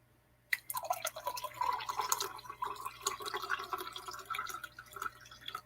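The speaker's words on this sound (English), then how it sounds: "I'm going to refill my coffee." Coffee is poured to refill a cup. A steady, splashy liquid stream starts abruptly and runs for about five seconds at moderate loudness, with no talking over it.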